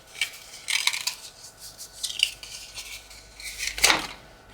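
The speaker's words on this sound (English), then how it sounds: "I'm just folding each one down, mountain style, if you will." Cardstock pop-up pieces for a stage scene being folded down along their score lines by hand, giving a series of light crisp creases and rustles spread over a few seconds with no talking.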